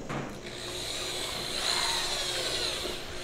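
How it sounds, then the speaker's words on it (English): A cheap screw-on drill fitted with a paint-mixer attachment stirs pottery clay reclaim. It gives a steady, close whirring hum that runs the whole time with no break and no talk. "I just have a screw-on drill"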